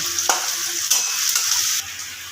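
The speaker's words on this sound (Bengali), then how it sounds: "আমি এই সময় পেঁয়াজটা ভাজতে দিয়ে" Chopped onion fries in hot oil already seasoned with small cardamom, giving a bright, close sizzling hiss broken by a few sharp stirring scrapes over two seconds.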